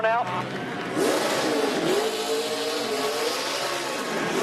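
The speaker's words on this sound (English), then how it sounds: "He doesn't know how to do a dirt burnout." A NASCAR Camping World Truck Series race truck revs its engine during a dirt burnout at Eldora, rising and falling engine whine under an announcer's commentary.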